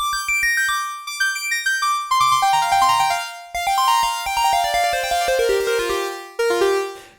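Bright synthesizer lead preset from an Oberheim OB-X8 or Korg KingKorg playing a melodic solo line, clear harmonic notes stepping rapidly up and down, with a pulse-wave timbre, loud and alone with no voices.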